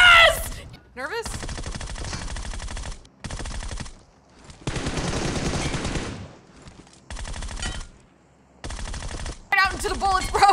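Rapid video game gunfire in a squad shootout, loud automatic bursts in several separate stretches with short gaps between, mixed with brief voices shouting over the action.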